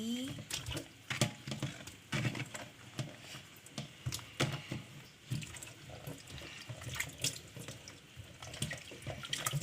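Nastar pastry filling being rinsed by hand under a running kitchen tap, a steady splashing stream into the sink broken by irregular louder splashes and clatters, close and fairly loud.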